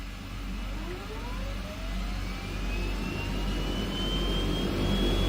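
Engine 1 of a DHC-6 Twin Otter spools up in Microsoft Flight Simulator, a turbine whine rising steadily in pitch over a low rumble that grows gradually louder throughout.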